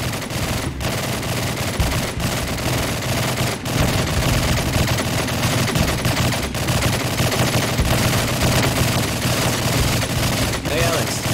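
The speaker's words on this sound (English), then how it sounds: "Sounds like someone's at the shooting range." Rapid, sustained machine-gun fire at a shooting range in the Rooftops 2 mod, loud and dense with bursts running continuously and no pauses.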